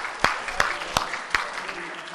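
Church congregation clapping in praise during a morning service, a crowd's applause with four strong, evenly spaced group claps standing out at a steady beat, voices audible underneath.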